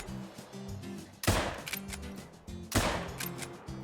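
Two sharp rifle shots, loud and spaced about a second and a half apart, fired at a deer at long range in the hunting video game Call of the Wild, with iron sights; each crack decays into a short echoing tail.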